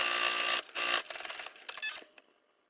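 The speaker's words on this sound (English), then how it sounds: "I'm going to sew it down, and then I'm gonna flip it over, sew it down again" A sewing machine stitches bias tape onto a scrap-fabric project, giving a close, loud whirring run that stops briefly, starts again in short bursts and then fades out.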